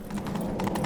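A horse's hooves clip-clop in quick rhythmic beats while riding in The Witcher 3: Wild Hunt, a brief burst of several close hoofbeats with no voices over them.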